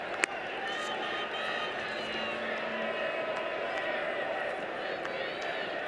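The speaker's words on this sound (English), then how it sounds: "The pro-Venezuelan crowd getting into it." A pro-Venezuelan crowd at a Venezuela vs USA baseball game in Toronto keeps up a continuous roar of cheers and claps beneath a commentator's voice, with a brief sharp crack near the start.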